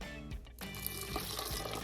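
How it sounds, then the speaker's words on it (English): Warm water gushes steadily into a blender jar for an oat tortilla batter, a close, continuous liquid pour filling the jar. "I'm using 2 cups of warm water. I'm going to add that right in there."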